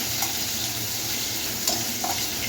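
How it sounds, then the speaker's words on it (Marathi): Ginger frying in a pan of oil for Hakka noodles, a steady close sizzle with faint stirring scrapes and a few brief clinks, no voices. "चांगला फ्राय करून घेणार आहोत. यातच आले घालणार आहोत"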